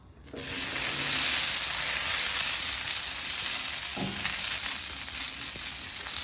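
Potatoes sizzle steadily in a single layer on a flat top griddle heated past 425 degrees, a loud continuous frying hiss with a faint brief clink partway through.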